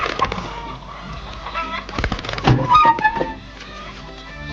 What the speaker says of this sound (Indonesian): Ayam lagi.